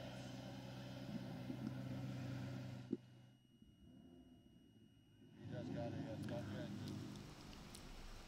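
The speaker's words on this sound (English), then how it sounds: "Drivers, start your Ferrari engines." Ferrari Challenge race cars at Circuit of the Americas fire up, a loud idle engine rumble that cuts out briefly, then several engines catch again with rising revs, under a voice.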